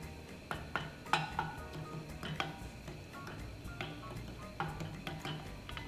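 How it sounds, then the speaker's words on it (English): A spoon stirs tomato sauce with basil and salt in a pot for rigatoni, making quiet scraping and a scattered run of light metallic clinks and taps against the pot, faint and close, with no talking. "I'm going to stir everything."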